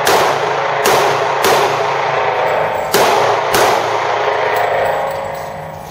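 Loud gunshots ring out at an outdoor shooting range: five sharp reports come at uneven intervals, each followed by a long fading echo.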